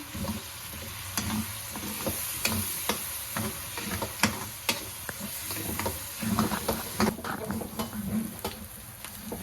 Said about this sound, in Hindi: इस प्याज को हम लाइट ब्राउन करेंगे।